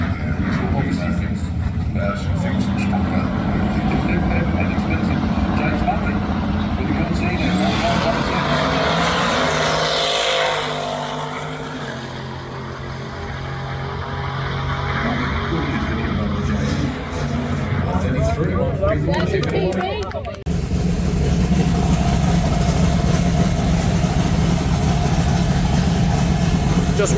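A drag racing car's engine warms up at a drag strip before qualifying, a loud continuous idle and rev with a shift in tone partway through, with voices talking over it.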